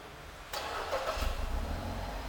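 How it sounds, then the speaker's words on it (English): A 2010 Mazda3 engine fires up via remote start: a sudden mechanical onset, then a steady low idle rumble settling in, with no voices. "this vehicle does feature remote engine start, so first you just want to make sure it's locked, and then you hold down the button on the remote"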